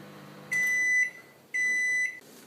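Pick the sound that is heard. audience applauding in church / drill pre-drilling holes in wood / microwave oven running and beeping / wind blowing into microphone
microwave oven running and beeping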